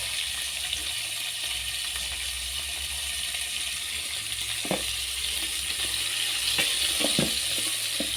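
Meat with onions added, frying in a pan: a constant bright hiss and crackle with occasional soft clinks and scrapes, close and moderately loud, with no talking.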